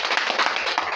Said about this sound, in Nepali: हामी सबैले एकचोटि जोरदार ताली बजाएर